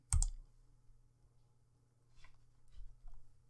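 A computer mouse clicks sharply once to start a Python installer download on a Windows 10 PC, followed by a few faint soft clicks and handling noises in a quiet room.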